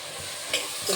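Chopped onion and potato frying in oil in a pan, a soft continuous sizzle with a brief stirring scrape partway through, heard close and alone.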